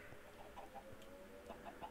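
Several Minecraft chickens cluck softly and repeatedly, their short, faint calls overlapping against a low noisy background.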